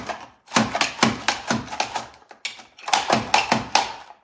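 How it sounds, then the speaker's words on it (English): A Rapid Prep mandolin slices celery into French fry cuts, a run of sharp rhythmic chopping clacks, about seven in quick succession, then a short pause and another burst, close and clear. "You can see how that French fry cut on the celery"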